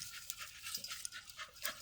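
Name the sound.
dog panting while digging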